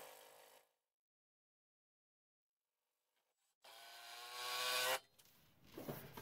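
A screw is driven with a power drill through a bike rack bracket into a wall stud, a short whirring burst after a pause, then scraping and rattling handling noise up close.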